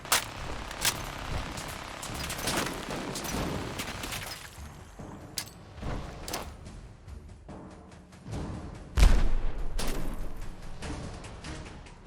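Gunfire in a modded Fallout 4 battle cracks out as scattered sharp shots with echoing tails, some close and loud, others lighter, spaced irregularly with a heavy boom near the end.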